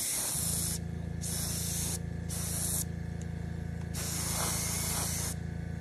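Airbrush hissing blue paint onto a Fujimi 1/24 Blade Runner Spinner model, bright spray bursts switching on and off in short passes over a steady compressor hum.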